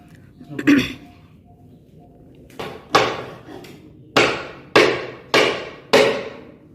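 Five sharp hammer taps ring out at uneven intervals, each with a short decaying ring, after a brief throat-clearing sound near the start.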